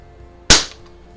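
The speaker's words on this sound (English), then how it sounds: "I'm gonna go ahead and just cock this and shoot it without a pellet in there" An El Gamo 126 air rifle is cocked and dry-fired without a pellet, giving a single sharp, close crack that decays quickly against near silence.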